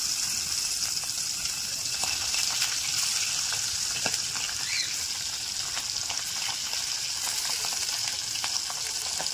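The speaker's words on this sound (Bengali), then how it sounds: "এবার এর মধ্যে দিয়ে দেবো হচ্ছে একটা একটা করে পুঁটি মাছ দিয়ে।" Puti fish fry in hot white cooking oil with a steady, close crackling sizzle that stays even throughout, with no voices.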